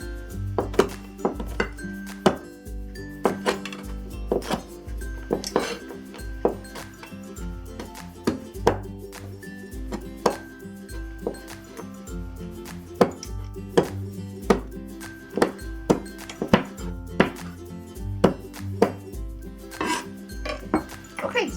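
Toenails are cut from chicken feet with a sharp knife or scissors, making repeated crisp chopping clicks and taps on a board in an irregular rhythm, close and clear throughout.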